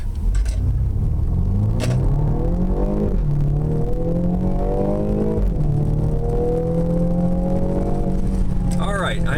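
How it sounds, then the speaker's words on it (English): A 2019 BMW M35i accelerating hard, its exhaust rumbling and rising in pitch through several gear changes, loud and close, with brief sharp pops and some cabin noise. "You'll probably be able to hear the exhaust"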